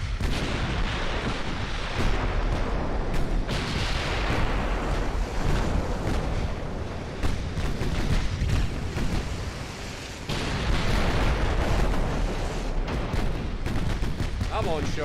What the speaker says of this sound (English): Fire the guns!